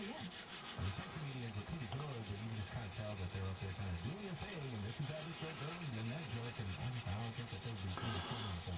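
Hand sanding on the painted body of a 1967 Ford Fairlane GT to knock down orange peel, a steady, close rubbing rasp that continues without a break for several seconds, with some faint low talk underneath.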